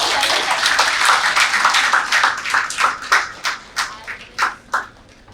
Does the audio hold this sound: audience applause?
yes